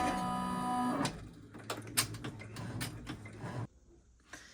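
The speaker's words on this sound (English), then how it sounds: "I'm going to hit reserve stop on my machine so it will stop after it's done with this round of stitching" Embroidery machine stitching the outline of an in-the-hoop quilted baby bib: a steady mechanical whir with needle clatter for about a second, then irregular clicks and knocks as it slows and stops, ending near-silent.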